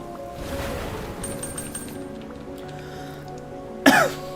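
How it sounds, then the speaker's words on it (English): A single short cough near the end, sharp and close, after a stretch of quiet low background hum. "Excuse me. I coughed."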